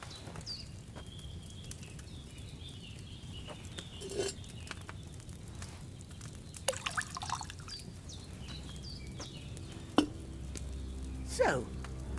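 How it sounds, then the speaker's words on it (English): Wine being poured into a cauldron in Kingdom Come: Deliverance II, a soft faint trickle and scattered drips over quiet ambience, with a few brief clinks and knocks along the way. "So, what did you pour in there? Wine, of course."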